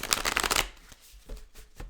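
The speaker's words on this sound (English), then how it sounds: "I'm gonna shuffle up a couple more times" Tarot cards are shuffled in a quick riffling burst of crisp flutters lasting about half a second, followed by a few softer taps and slides as the deck is handled.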